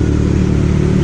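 A Kawasaki Z900 superbike idles close by with a steady, loud engine rumble and mechanical clatter, running alone without talk.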